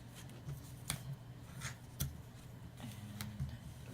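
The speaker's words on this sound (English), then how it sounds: "So I'm going to put a piece of score tape right across there." Score tape being pulled and pressed across paper while a passport folder is assembled, with faint crinkling rubs and a few soft, sharp taps spread across the quiet moment.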